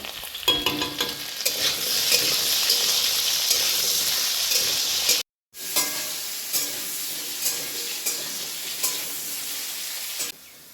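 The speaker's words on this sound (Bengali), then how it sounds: "লবণটা দিয়ে এটা ভেজে নেব" Salted potatoes frying in hot oil in a pan, a steady loud sizzle with crackling spatter that breaks off abruptly midway, then resumes and continues, no voices.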